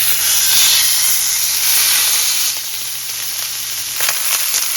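Ribeye steak searing in a scorching hot cast iron skillet with no added oil or butter, giving a loud, steady close sizzle and hiss that eases slightly partway through, with a few clatters near the end.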